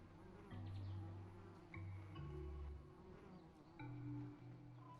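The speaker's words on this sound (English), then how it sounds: "don't worry about the bees. They're not going to harm you." Bees buzz in the game ARK: Survival Evolved on Crystal Isles, a steady droning hum that swells in several close passes and fades between them, with no voices.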